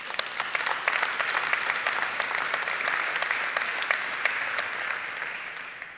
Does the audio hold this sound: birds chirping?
no